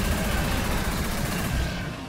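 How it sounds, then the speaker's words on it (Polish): Explosions in the video game Kurczak Mały: As w Akcji, a dense rumbling blast with rapid crackling bursts running for about two seconds before fading slightly. "I znowu wybuch."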